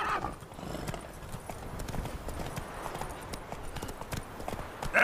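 Geralt's horse Roach galloping in The Witcher 3: Wild Hunt, a quick continuous run of hoofbeats at moderate distance under faint game ambience, with a sharper sound at the very start and end.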